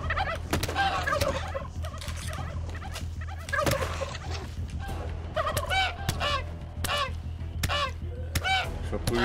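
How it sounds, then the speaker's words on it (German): Turkeys gobble repeatedly in the video game How to Survive 2, a series of bubbling, warbling calls over a steady low game hum, with brief muffled sounds mixed in. "Gerade ein Truthahn."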